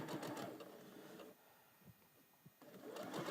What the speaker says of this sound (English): Okay, I'm sewing.